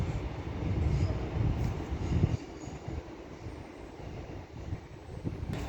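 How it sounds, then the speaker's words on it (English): An LNER Azuma Class 801 electric train, unit 801226, rolls into Doncaster station with a steady low rumble and wind-like rush that swells, then eases as it slows. "now coming in is another LNER Zoomer running from Edinburgh Waverley to London King's Cross, worked by 801226"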